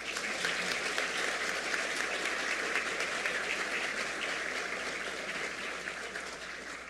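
An audience at a law seminar gives a sustained round of applause, a dense, even wash of clapping heard from some distance at moderate level that tapers slightly toward the end.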